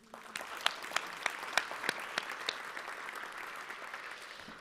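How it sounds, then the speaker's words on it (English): Audience applause, a steady patter of many hands clapping with a few sharp louder claps standing out, fading slightly toward the end. "Please give a round of applause as this event is a labor of love."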